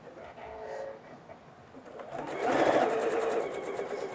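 Sewing machine chain stitching quilt pieces cut for an Arkansas Traveler quilt block, a steady mechanical whir that builds louder in the second half over a faint background.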